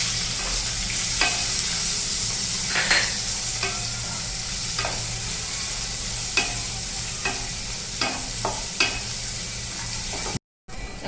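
Onion frying in a pan, a steady loud sizzle with repeated scraping strokes of a spoon stirring through it, no voices.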